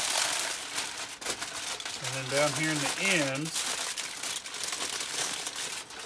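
Foil or paper crinkles continuously while a smoked brisket from a Weber Smokey Mountain is folded up and wrapped, a close, steady crumpling texture under a man's brief speech.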